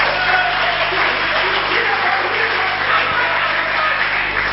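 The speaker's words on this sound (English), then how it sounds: "Can somebody clap for that guy?" Crowd applause at a stand-up comedy show, a continuous, even roar of clapping at fairly high level lasting the whole stretch, with some audience murmur mixed in.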